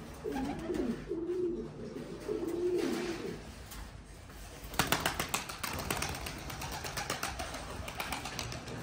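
Pouter pigeons coo in soft, rolling calls close by, then a burst of rapid wing flapping as the birds take off in flight, repeating clatters fading into the open air.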